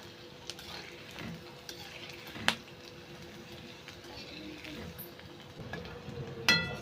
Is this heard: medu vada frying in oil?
yes